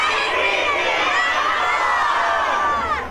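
A crowd of children shouts together at a shopping-mall opening event, a dense and loud wall of voices that holds steady for the whole stretch before easing slightly at the very end.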